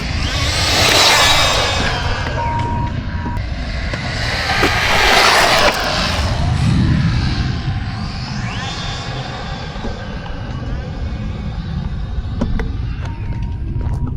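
An RC car, tires worn, sweeps past at top speed with a loud rising and falling whine and whoosh, several strong passes and steady wind or motor noise in between.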